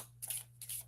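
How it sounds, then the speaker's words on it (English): A tarot deck being shuffled by hand, two brief papery riffles a fraction of a second apart, close and fairly quiet over a steady low electrical hum. "Shuffle, shuffle, shuffle."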